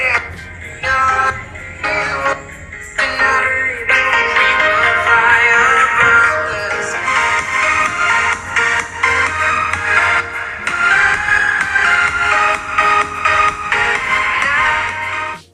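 Music with singing plays through the small mono speaker of an Oppo A3x phone, thin and mid-heavy with little bass, steady and fairly loud throughout.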